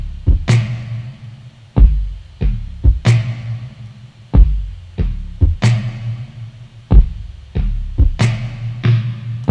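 A muddy, washed-out drum kit plays in a music production, with a steady groove of dull thudding kicks and softened snare and cymbal hits, the whole kit blurred and low-heavy, continuous and without talk.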